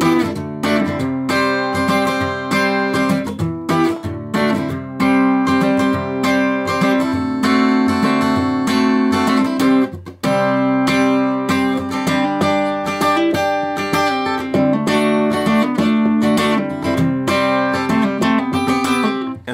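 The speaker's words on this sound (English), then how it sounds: "So the entire chorus will sound like this." An acoustic guitar strums the chorus of a song in steady downward strokes, loud and close, with no talking and a brief pause near the middle.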